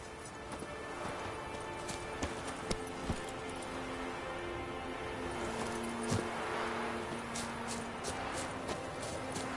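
Roach, Geralt's horse in The Witcher 3, trots along with a steady clip-clop of hooves, moderately close and fairly quiet, over faint ambient game sound with light jangling accents.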